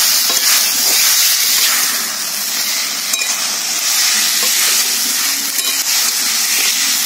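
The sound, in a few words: sautéing lightly boiled potatoes with spices in a pan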